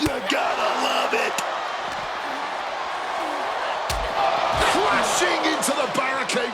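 Loud arena crowd roaring through a WWE 2K26 women's tag team championship match at NXT Mutiny, a steady dense wash of cheering with sharp slams and thuds punching through and commentary running over it.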